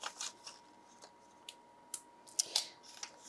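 Scissors cut paper for a handmade graduation card with a series of short, crisp snips, close and fairly quiet with brief pauses between cuts.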